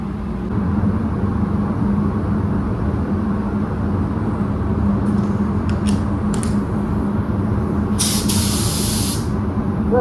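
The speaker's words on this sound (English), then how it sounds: "We're gonna go grab the paint and we're gonna start spraying." Spray gun applying paint to a dented car panel, a steady loud hiss running continuously throughout with brief sharper bursts of spray near the end, no talking.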